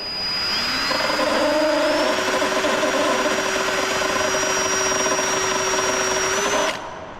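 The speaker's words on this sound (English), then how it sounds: "now let's get that drill in there" An electric drill spins up during a Fiamma F45 awning install and runs loud and steady for several seconds with a high whining motor tone, then winds down abruptly.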